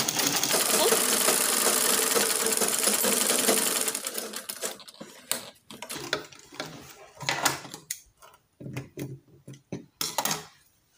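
Sewing machine running steadily through two layers of lining fabric for a flared peplum, a dense continuous whir for about four seconds, then broken short bursts and stops.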